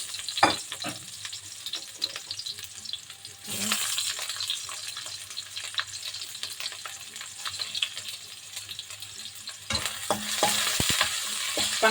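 Garlic, ginger and onion sautéing in a pan, a soft continuous sizzle broken by stirring scrapes, swelling louder in two bursts as ingredients hit the hot oil.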